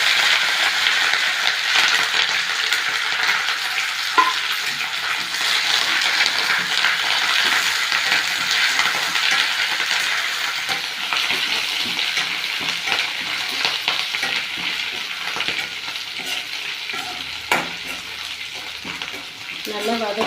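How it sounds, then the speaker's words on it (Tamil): Curry leaves fry in coconut oil in a pan, giving a steady, close sizzle and crackle that lasts the whole time with a few small clinks and no talking. "நம்ம இப்போ கருவேப்பிலையை வதக்கலாம்."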